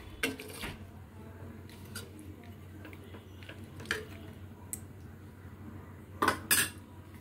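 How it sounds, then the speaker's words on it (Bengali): Dal with ginger paste is stirred in a pot, with a spoon clinking and scraping against the metal in scattered knocks over a quiet background hum, a few louder clatters near the end. "দিয়ে আবার ডালটাকে খুব ভালো করে নাড়াতে হবে, মানে মিশিয়ে দিতে হবে"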